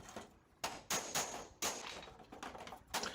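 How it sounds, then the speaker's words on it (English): Hammer and dolly blows straightening the sheet metal of a car door on a solid flat surface, a handful of sharp metallic strikes spaced irregularly, close and loud. "now we're just going to hammer and dolly this thing back into shape"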